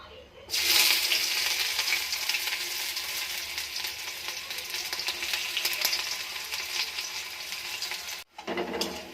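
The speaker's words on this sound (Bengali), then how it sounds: "প্রথমে দেবো পেঁয়াজ কুচি" Chopped onion hits a spoonful of hot white oil in a wok with a sudden loud burst of sizzling that settles into a steady close hiss, briefly cut near the end by a short gap, with no talking.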